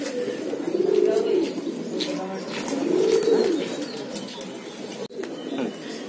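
Pigeons cooing in a loft, two long rising-and-falling coos close by with softer cooing and light rustling between them.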